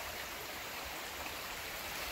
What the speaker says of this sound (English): we just crossed this river here.